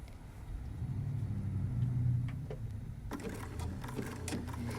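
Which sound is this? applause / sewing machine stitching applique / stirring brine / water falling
sewing machine stitching applique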